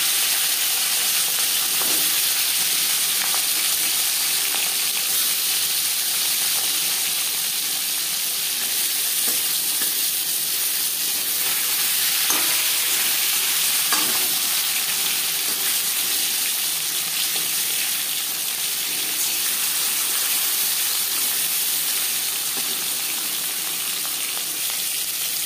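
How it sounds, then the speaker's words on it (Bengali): Marinated fish frying in hot refined oil gives a loud, steady sizzle and hiss that runs without a break, with a few louder crackles and no talking. "4 চামচ রিফাইন্ড অয়েল গরম করে নেওয়ার পর দিয়ে দেব ম্যারিনেট করে রাখা মাছ।"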